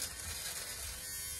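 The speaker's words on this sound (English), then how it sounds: "I'll run just a sweater shaver over it real fast" An electric sweater shaver runs over a pilled sweater, giving a steady, close buzzing whir that holds without pause.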